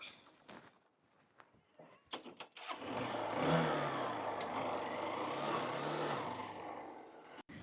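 A car engine starts after a few quiet knocks and footsteps, then idles and revs moderately nearby as the vehicle is moved into the shade to park, running steadily until a sharp click at the end.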